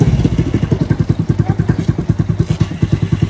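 A motorcycle engine runs loud and close in second gear during a riding lesson, its steady rapid thumping pulse continuing without a break and no voices over it.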